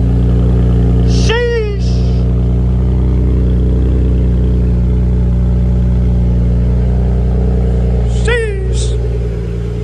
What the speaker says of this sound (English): let's give that way you guys can hear a cold start